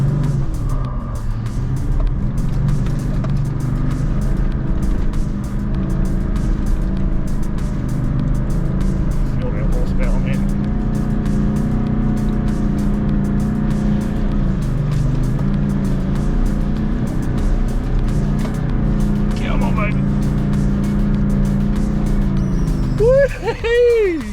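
A 4WD car labours up a steep, untracked dirt track, its engine droning loud and close throughout with shifting revs and tyre crunch, and people talking inside the cabin.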